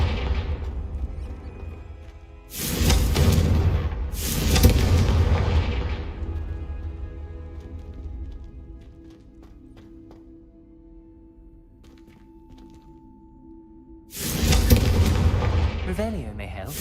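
Booming Confringo blasting-spell explosions from the video game Hogwarts Legacy, a loud broadband blast near the start followed by a second burst, a lingering decaying rumble, then another heavy blast near the end, with music tones underneath.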